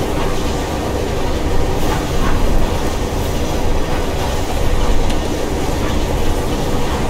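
A train passes in the first-person parkour game Mirror's Edge, a loud steady roar of wheels and rumble filling the whole stretch with a faint clickety-clack rhythm.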